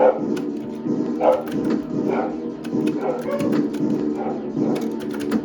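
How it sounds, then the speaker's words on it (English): Dogs near a chainsaw outside a haunted house bark and whimper repeatedly, moderately close, in uneven bursts under a person talking. "the guy's running around with the chainsaw and it's setting the dogs off"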